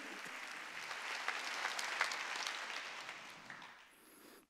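A church congregation at a Wednesday worship service claps together in steady, moderately loud applause for about four seconds before it cuts off abruptly.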